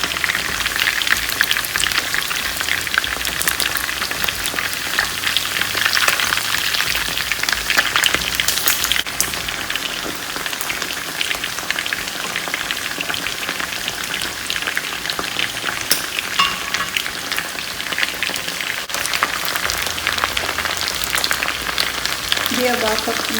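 Chicken pieces frying in a pan, a dense, continuous crackling sizzle like rain that holds steady and close for the whole stretch, with no one talking over it.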